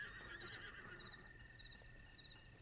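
A large horse in a video game whinnies faintly and repeatedly in the background, soft high-pitched cries over steady low rumble and a constant tonal hum.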